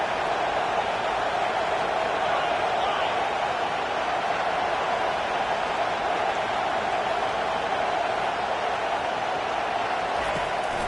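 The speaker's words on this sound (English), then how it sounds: "Decibels rising as the crowd gets behind this defense on third down" Steady stadium crowd roar from an NCAA '25 college football video game, a dense continuous wash of cheering during a third-down defensive stand, loud and unbroken throughout with no clear talk.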